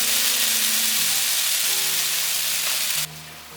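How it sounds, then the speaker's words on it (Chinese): Potatoes and cucumber stir-fry over medium-low heat, with a loud, steady hissing sizzle close by and a low hum underneath. The sizzle drops suddenly near the end, and no one speaks. "这时候可以开中小火炒， 大约略炒一下"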